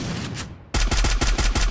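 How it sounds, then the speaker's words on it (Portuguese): Gunfire in a shooter video game: a rapid burst of five or six loud, sharp shots in quick succession after a brief lull, close and dominant with no talk over it. "Um tiro."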